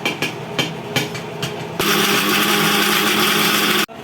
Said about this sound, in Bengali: আমি এখন এটাকে ব্লেন্ডার করে নেব।